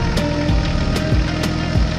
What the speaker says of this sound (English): The engine runs smoothly, and the sprayer moves slowly between the rows of corn.